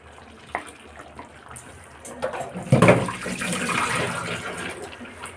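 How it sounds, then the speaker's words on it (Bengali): Water runs and splashes into a mixer grinder jar coated with leftover spice paste as it is rinsed, the flow starting softly and swelling into a louder, steady gush for the last few seconds. "একটু মিক্সি ধুয়ে জল দেব"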